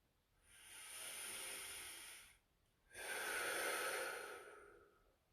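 Two slow, close breaths drawn during a stretching routine, each a soft airy rush lasting about two seconds with a short pause between, quiet and alone.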